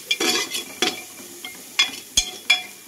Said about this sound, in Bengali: আমি একটু নেড়ে চেড়ে নেব